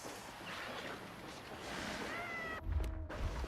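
A cat meows in the video game S.T.A.L.K.E.R. 2, a few short mewing calls over a steady ambient wash, followed by a burst of low rumbling at the end.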